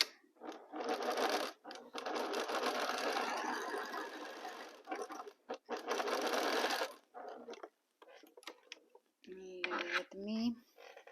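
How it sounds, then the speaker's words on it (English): Sewing machine stitches fabric corners together in several fast whirring bursts separated by short pauses, close and clear, followed by a brief voice at the end. "Join the corners and sew."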